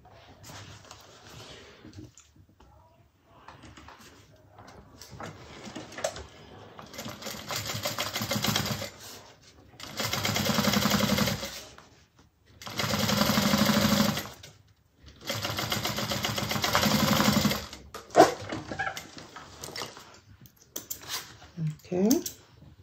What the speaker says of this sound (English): we're going to sew across with a 1/4 inch seam allowance